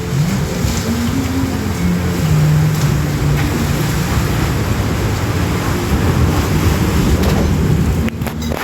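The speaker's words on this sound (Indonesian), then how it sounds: "Ini ada angin kencang." Strong wind by the sea on the coast of Lhok Rukam in South Aceh, a loud continuous rushing and buffeting over the microphone with a low surf-like roar, no voices.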